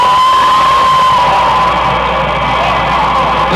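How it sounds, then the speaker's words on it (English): A large crowd cheers and shouts at Dallas airport as the plane carrying President and Mrs. Kennedy arrives in 1963, a loud continuous roar with scattered whoops. "And the crowd below cheering."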